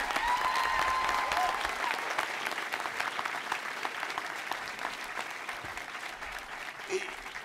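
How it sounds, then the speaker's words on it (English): Law school commencement audience giving a round of applause, a broad crowd of clapping that starts full and gradually thins, with a brief murmur of voices underneath. "I'd like to ask the class of 2015 to join me in a round of applause for all the people who are here today who supported you"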